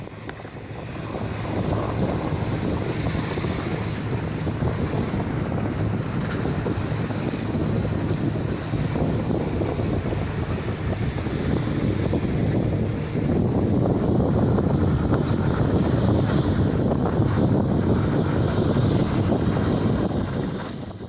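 A motorboat runs at top speed along the Suriname river through jungle, its engine a constant loud roar mixed with rushing water and heavy wind buffeting the microphone for the whole stretch.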